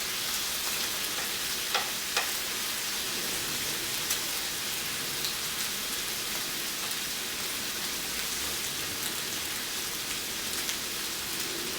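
Pork crisping on a grill, a dense, even, rain-like sizzle that holds for the whole stretch with a few sharper pops, no talk.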